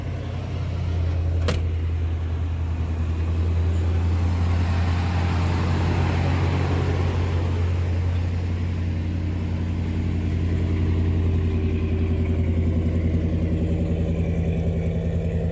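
A vehicle engine idles steadily right after starting on a freshly checked battery, a loud, close, even low rumble that holds for the whole stretch without voices.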